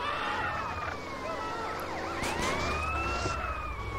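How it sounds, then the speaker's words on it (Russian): Ambulance siren in the video game GTA San Andreas, a loud wailing tone sweeping steadily up and down for the whole stretch, with no voices over it. "это скорая помощь едет сюда"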